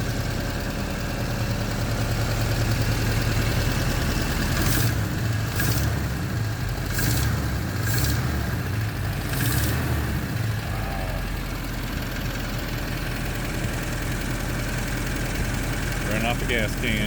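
An old carbureted Borowski 427 V8 car engine idling: a steady, throaty rumble that runs close and unbroken for about seventeen seconds, with a few brief revs and someone talking over it.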